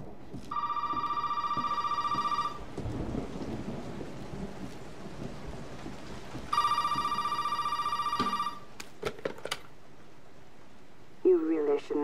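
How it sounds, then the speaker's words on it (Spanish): A telephone rings in the Resident Evil 7 horror game, two long electronic ring bursts a few seconds apart, over steady rain and rumbling storm ambience with a few sharp knocks between. "Y ahora suena el teléfono."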